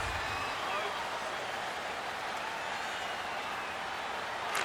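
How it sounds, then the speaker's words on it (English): A steady arena crowd buzz in an NHL 23 hockey video game fills the clip as a dense, continuous roar, with commentary voices on top. "Crowd's buzzing, ready to get things back underway"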